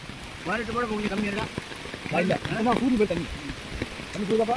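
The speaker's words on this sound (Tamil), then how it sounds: "தேங்காய் மாங்காய் அனைத்தையும் அடித்து செல்லும் ஆற்று வெள்ளம்" Floodwater from a river near Tirunelveli rushes past, carrying coconuts and mangoes, a constant broadband hiss beneath someone talking close by.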